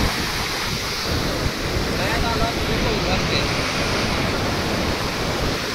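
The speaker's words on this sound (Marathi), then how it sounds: "धबधबा बघा, धबधबा" A waterfall near Mahabaleshwar gives a loud, unbroken roar of rushing water, mixed with heavy wind buffeting across the whole stretch.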